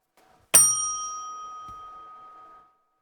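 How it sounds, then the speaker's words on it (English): A single bright bell ding from the camera spot in Counter-Strike on the Cobblestone map, ringing out clearly and fading over about two seconds, alone with no talk. "This is the sexy camera bell."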